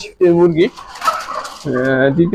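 Farm-breed chickens cluck in two clear bursts of harmonic calls, with a busier mixed patch of sound between them, close and fairly loud.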